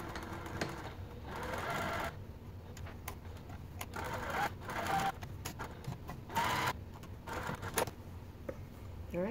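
A sewing machine stitches around a fabric rectangle at about a 2.5 stitch length, running in close, steady bursts broken by brief pauses and small clicks.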